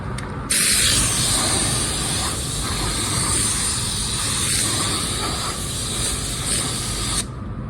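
A spray gun shooting clear coat over car paint, with air pressure set too high: a loud, steady close-up hiss of atomized spray runs almost continuously, starting and stopping abruptly.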